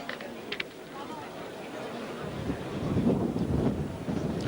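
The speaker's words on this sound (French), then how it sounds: "Et on voit ce vent qui ne faiblit pas ici à Narbonne." Strong, steady wind buffets the microphone outdoors at a pétanque triplettes championship in Narbonne, a broad rumbling roar that swells louder in the second half, with faint voices underneath.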